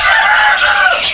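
A hen clucks close up, a brief, loud run of throaty cackling sounds.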